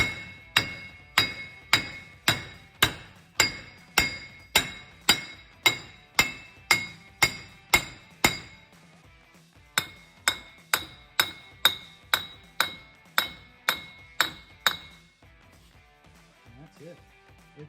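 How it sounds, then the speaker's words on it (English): Hammer whacks driving a front wheel bearing out of a 2001-2011 GMC or Chevy 1500 4x4 truck, a rapid, steady run of loud, ringing metallic strikes, about two per second, with a brief pause partway through before the hammering resumes and then stops. "we take a hammer and just whack on it a few times till she pops out"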